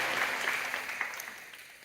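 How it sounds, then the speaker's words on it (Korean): A church congregation applauding in welcome during a Sunday service, a brief burst of scattered clapping heard from some distance, fading quickly. "여러분께 박수로 환영하시죠"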